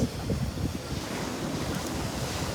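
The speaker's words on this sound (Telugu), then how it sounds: "సముద్రం ఒడ్డులో ఉన్నాం ఫ్రెండ్స్ చింత మహాసముద్రం ఉన్నాము" Sea waves breaking on the shore at Chinta Mahasamudram, a continuous loud wash of surf mixed with wind buffeting the microphone, no voices.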